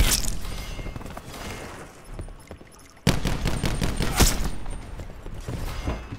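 Rapid bursts of automatic gunfire in Call of Duty: Black Ops 4, sharp cracks in dense clusters with a brief lull before a louder burst resumes and keeps rattling to the end.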